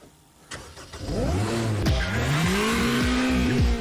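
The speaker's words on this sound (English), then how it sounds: "This car goes like nothing you can possibly imagine." A sports car engine, quick enough to reach 60 mph in 2.9 seconds, starts quiet and then roars loudly as it accelerates hard, its pitch climbing and dropping sharply with each rapid gear change.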